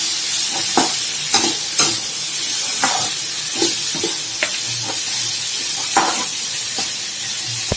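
Navadhanya sundal is tossed and fried in a pan: a constant loud sizzle with repeated spatula scrapes and taps every second or so, close up and with no talking.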